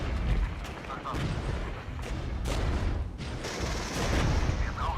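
Artillery fire support called in during Regiments, a Cold War military strategy game, heard as a dense, sustained rumble of booms and blasts under constant battle noise.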